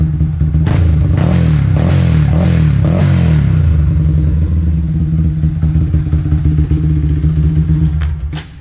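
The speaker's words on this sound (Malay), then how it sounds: "aku minta Tan rem sikit je. Sikit bagi korang dengar bunyi je." A motorcycle with an open exhaust revs up loudly and close by, rising in a burst of throaty roar before settling into a steady rumbling idle.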